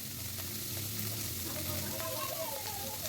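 Chopped onion sizzling in a frying pan, a continuous close, dense hiss of frying with light stirring, steady in loudness from start to end.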